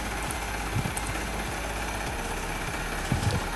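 A Yamaha Vixion R motorcycle engine idles steadily during a radiator flush, a low continuous hum with a faint even pulse at moderate distance, without talk.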